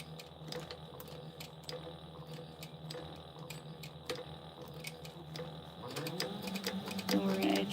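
A sewing machine back stitches along a 3/8-inch seam on an Aries crossbody bag, with a steady rapid ticking rhythm close by that grows busier toward the end.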